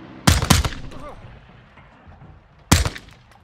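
Gunfire in the video game Call of Duty Modern Warfare II: a quick burst of two loud, close shots, then a single shot about two seconds later, with faint game noise between.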